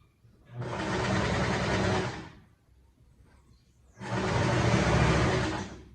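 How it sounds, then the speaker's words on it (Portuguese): A sewing machine runs in two fast, even bursts of about two seconds each while stitching a folded hem on a lab coat, with a short quiet pause between runs. "Dobra um pouquinho aqui, pra poder fazer uma costura dobrada aqui, uma bainha."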